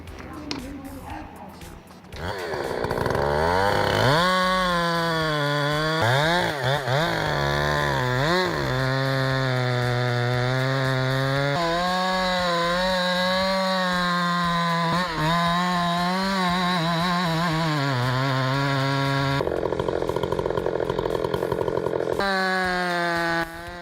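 Husqvarna 390 chainsaw cutting a tree, its loud engine roaring close by, revving up and down as it cuts, sustained and harsh for most of the stretch.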